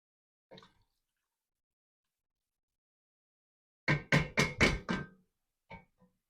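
A spoon stirs a 28-ounce can of petite diced tomatoes into a beef and vegetable soup pot, giving a quick run of four or five wet, knocking scrapes, with a single soft clink before and another after.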